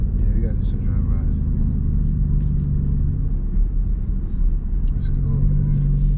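Low rumble of an SRT Jeep Grand Cherokee, 2016–2017 model with a bumper conversion, steady and fairly close from outside, with people talking over the engine throughout.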